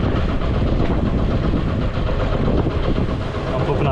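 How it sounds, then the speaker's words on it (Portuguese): A sailboat's inboard engine runs steadily, a loud continuous low rumble with rhythmic mechanical knocking that fills the whole stretch, close by, with no clear speech over it. "Desliga o motor pra nós."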